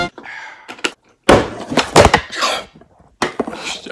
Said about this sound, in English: So my phone's gonna fall when I slam the water down on the table.